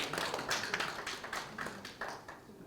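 Small lecture-hall audience gives scattered, light clapping to welcome a speaker, faint and uneven bursts of hand claps with no talking.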